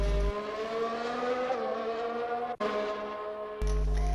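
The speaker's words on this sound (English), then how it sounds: "As you can see, the cars have hit the circuit for pre-season testing" Formula 1 race cars in a video game scream past on a circuit during pre-season testing in Bahrain, with a sustained high engine whine that dips sharply once as a car passes close, then rises again.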